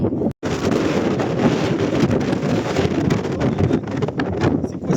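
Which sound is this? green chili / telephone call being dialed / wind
wind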